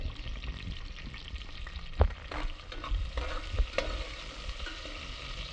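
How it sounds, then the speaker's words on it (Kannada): Dried red chillies and garlic fry in a pan as the base for a mutton curry, a steady close sizzle broken by a few stirring scrapes and knocks, with no voices. "ಸೊ ಫಸ್ಟ್ ಇದನ್ನೆಲ್ಲ ಫ್ರೈ ಮಾಡೋಣ"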